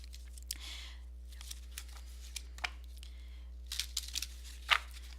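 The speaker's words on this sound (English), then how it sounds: "I'm going to give them a few more shuffles before we get started" Tarot cards being shuffled by hand for a reading: soft, quiet riffles and brief papery bursts spaced irregularly, close by in a hushed room.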